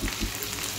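Chopped capsicum hits a hot frying pan while making kadai paneer, giving a steady, close sizzle with crackling texture that holds evenly for under a second, no voices over it.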